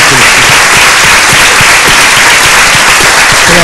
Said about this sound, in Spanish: yo quiero darle un fuerte aplauso a todas las mujeres.